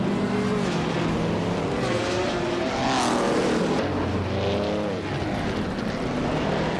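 A 1952 Ferrari 375 Indy race car in a racing video game drones steadily with shifting engine pitch, other cars roaring close by and one sweeping past near the middle, continuous and loud.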